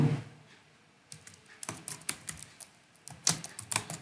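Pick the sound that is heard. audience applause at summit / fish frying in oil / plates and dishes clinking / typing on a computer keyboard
typing on a computer keyboard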